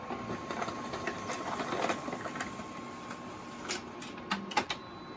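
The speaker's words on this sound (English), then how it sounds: "So that's now been sent to the printer and should come out any second" A Xerox Phaser 6510 colour laser printer prints a page, giving a steady mechanical whir with a few sharp clicks and clunks near the end. No one speaks.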